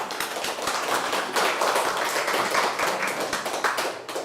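An audience at a public science lecture claps in a steady burst of overlapping hand claps, close and fairly dense, with no one talking over it.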